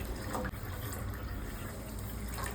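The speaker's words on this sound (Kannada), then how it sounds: "ಈ ಗ್ಲಾಸಲ್ಲಿ 2 ಗ್ಲಾಸ್ ನೀರು ತೊಗೊಳ್ತಿದ್ದೀನಿ." Water poured into a glass, a continuous soft splashing trickle that stays fairly quiet and steady throughout.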